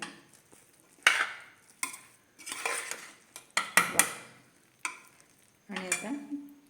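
Pulao being stirred in a pressure cooker, a spoon scraping and clinking against the metal pot in several separate bursts with quiet gaps between them, close and fairly clear.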